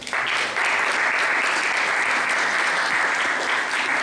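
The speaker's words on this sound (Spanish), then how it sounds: "Pido un aplauso para él." Applause from a course audience welcoming a speaker, with clapping that jumps in abruptly after a brief lead-in and then holds loud, dense and steady to the end.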